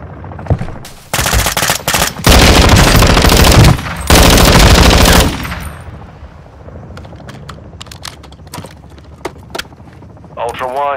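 Heavy automatic gunfire in Call of Duty: Modern Warfare II, long loud bursts rattling close by, then fading to scattered distant shots and mechanical clicks, with a voice coming in at the end.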